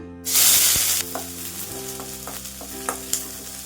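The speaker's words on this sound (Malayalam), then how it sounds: "ചട്ടി അടുപ്പത്ത് വെച്ച് വെളിച്ചെണ്ണ ഒഴിച്ചു കൊടുക്കാം. 1 സബോള അരിഞ്ഞത് ഇട്ട് കൊടുക്കാം." Chopped onion dropped into hot coconut oil in a pan bursts into a loud, close hiss that settles into a steady sizzle with a few scattered pops and light stirring, for a Kerala-style chicken curry; no one speaks.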